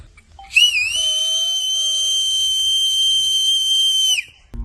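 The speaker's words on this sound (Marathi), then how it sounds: "शिट्टी मारतात आणि परिसरातील दीड दोनशे पक्षी त्यांच्या अंगणात जमा होतात" A man gives one long, loud, sustained whistle to call flocks of birds to grain scattered in his yard, rising sharply, then held steady for about three and a half seconds before cutting off, with nothing else heard.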